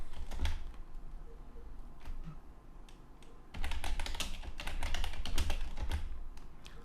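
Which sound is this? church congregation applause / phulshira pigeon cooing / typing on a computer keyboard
typing on a computer keyboard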